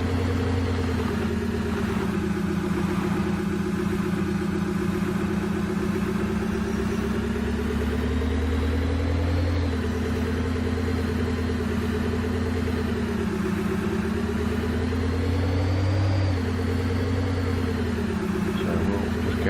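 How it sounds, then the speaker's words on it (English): A work pickup truck engine driving in Farming Simulator 22 with a tank of diesel in the back, a steady mid-pitched engine hum that rises and dips gently with throttle, continuous and close throughout. "This is our normal work pickup."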